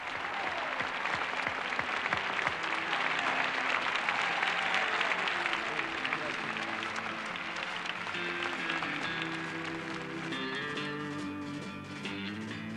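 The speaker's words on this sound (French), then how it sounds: "Pas étonnant si l'applaudimètre du dernier défilé, Santana, fut un des plus fêtés." Dense, sustained applause from a large crowd greets tennis champions at a Roland-Garros parade, loud at first and gradually easing while remaining continuous throughout.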